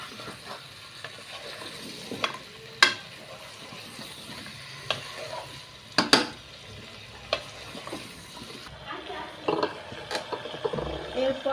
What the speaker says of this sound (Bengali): কুমড়োটা দেওয়ার পরে নাড়াচাড়া করে নিলাম।